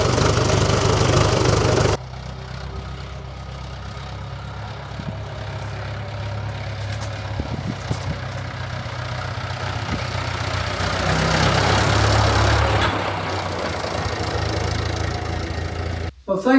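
An engine, likely a Drott machine, runs with a low steady rumble as the throttle is worked up and down, swelling louder for a few seconds before settling back near idle.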